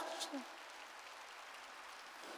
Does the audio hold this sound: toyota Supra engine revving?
no